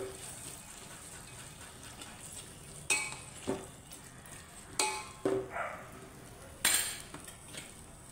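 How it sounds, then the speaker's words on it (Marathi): Moth beans being stirred and sautéed for Marathi misal, with several sharp clinks and scrapes of a spoon against the pan over a faint background sizzle. "आणि ही मटकी, आता हे सगळं चांगलं व्यवस्थित परतवून घ्यायचं"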